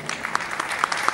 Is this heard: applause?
yes